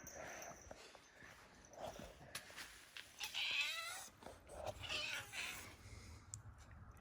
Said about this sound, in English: teaching the other cat to make weird noises